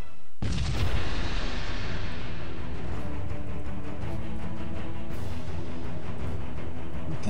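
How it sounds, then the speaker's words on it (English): Starship weapons fire in the space strategy game Sunrider: a sudden heavy boom bursts in, followed by a sustained rumbling barrage with crackling repeated shots and a second blast, loud and close, without talk. "Firing weapons."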